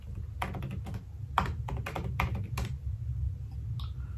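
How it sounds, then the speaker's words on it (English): Fingers tap a computer keyboard in short, close bursts of sharp clicks with brief pauses between words, against a quiet low hum. "So I'll just type store attachments."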